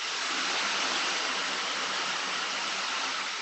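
Ocean drum rolled in a yoga class to imitate waves, a continuous loud hiss of rattling beads that swells slightly and evens out, alone without talking.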